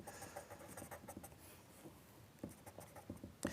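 Pastel pencil scratching on paper during a landscape drawing, pressed hard in a quick series of short, close, dry strokes with brief pauses between them.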